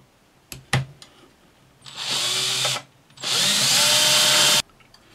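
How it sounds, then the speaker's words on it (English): A couple of sharp knocks, then two sustained bursts of a power drill whining through material, the second longer, with brief quiet between. "Hopefully this should drill through okay."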